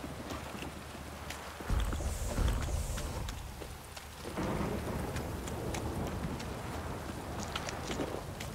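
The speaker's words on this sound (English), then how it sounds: "This downpour's a bastard, it is." Heavy rain pours steadily in The Witcher 3: Wild Hunt, a constant hiss with a couple of deeper thunder-like swells and scattered drip ticks, no talk over it.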